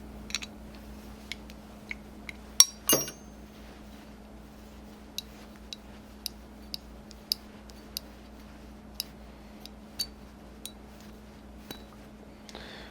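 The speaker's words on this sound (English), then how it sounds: "There's an 11mm bolt right on top here, which, like everything else, has not come easily on this carb." An 11mm bolt is worked loose on a Bing moped carburetor's banjo inlet with a wrench. It sounds like a regular series of small metallic clicks, close and quiet, following one sharper clatter early on.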